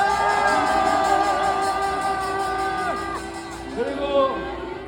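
A rally crowd at an outdoor political protest cheers and whoops, with shouts rising over a steady din that swells again near the end.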